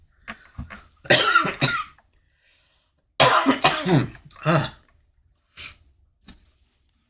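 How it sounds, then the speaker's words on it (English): Harsh, bursting coughs in several fits, close and loud, separated by short silences, with a couple of smaller coughs trailing off. "And this cough just wants to hang on and hang on and hang on."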